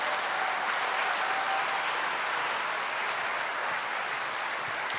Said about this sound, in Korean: 다 같이 큰 박수로 환영해 주시기 바랍니다.